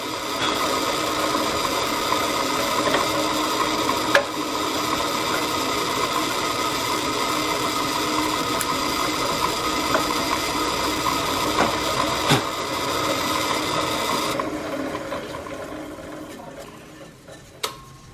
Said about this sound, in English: Now we'll drill our other one.